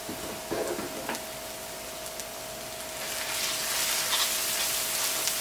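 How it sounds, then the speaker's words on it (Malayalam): Coriander powder fries in a pan for a chicken roast, producing a steady hissing sizzle that grows slightly louder over the last few seconds, with a faint tonal hum beneath and no talking. "ഈ മല്ലിപ്പൊടി ഇതിനകത്ത് കിടന്നിട്ട് നന്നായിട്ട് മുരിയട്ടെ"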